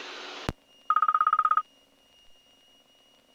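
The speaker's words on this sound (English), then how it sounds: "My phone never stops ringing." Inside a Mooney light aircraft cockpit, a phone's ring tone trills in one fast, pulsed burst lasting under a second, framed by sharp clicks over a steady low hum.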